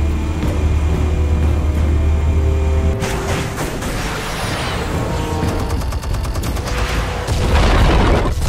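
Explosives detonating in Batman: The Telltale Series: a heavy, continuous rumbling roar, then a sharp blast that sets off crackling debris and rattling bursts, ending in another deep boom.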